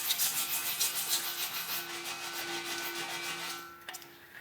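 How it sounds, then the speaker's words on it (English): Sandpaper rubs by hand over a rust hole in a cracked metal bike frame in a shop, a steady rhythm of close scratchy back-and-forth strokes that fades near the end with a couple of faint taps. "So there's my rust hole. So I'll give it a little sand,"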